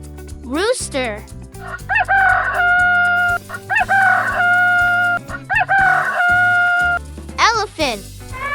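A rooster crows three times, each a drawn-out, loud cock-a-doodle-doo with a sustained ringing finish, over continuous gentle music and a few quick sliding tones.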